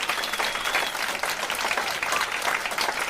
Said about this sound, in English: A round of applause for Mike